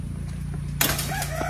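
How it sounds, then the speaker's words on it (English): Chickens on a farm at feeding time, a burst of clucking and squawking that starts partway in and carries on over a steady low hum, close and fairly loud. "I'm gonna feed the chickens now"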